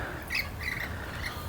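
Rosellas and lorikeets squawk in the Dandenong Ranges, with a few scratchy, close calls over a steady outdoor hiss.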